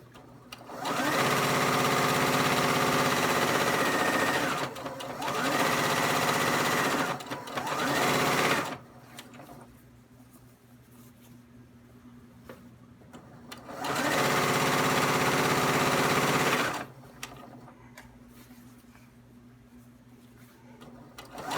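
A sewing machine stitches a t-shirt extender in three long whirring runs of several seconds each, separated by quieter pauses with faint handling of fabric, loud and close with no speech.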